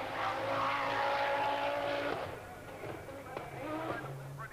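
A works Audi Quattro rally car with automatic gearbox on a stage of the 1985 RAC Rally, loud engine roar passing close then fading with a gear change, under a commentator's voice.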